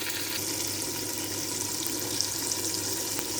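Green chilies and spices fry in a pan for white chana pulao, giving a steady, even sizzle with a soft hiss throughout and no talking.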